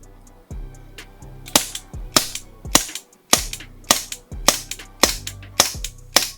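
A Walther PPK/S gas airsoft pistol, an Umarex-licensed VFC model, fires BBs in about a dozen sharp, loud cracks at an uneven, roughly half-second pace, close by, indoors in a warm room, with no talking.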